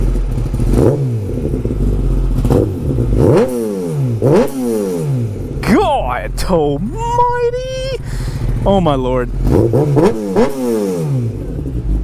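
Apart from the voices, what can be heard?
Kawasaki ZX10 motorcycle revving with Graves full exhaust system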